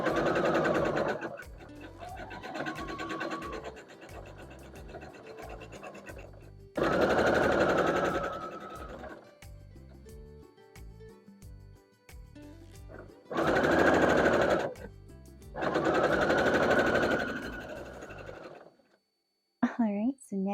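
A sewing machine stitching quilt block units for a Farmers Star barn quilt block runs in several loud, rapid bursts separated by quieter pauses with handling noises.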